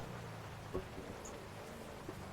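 Steady rain in the GTA RP video game hisses evenly throughout, a soft continuous wash with a few faint drop-like ticks, moderately quiet and with no talking.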